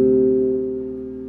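Minor seventh interval played on an instrument: two notes sounding together as one sustained tone, fairly soft and alone, slowly fading over about a second.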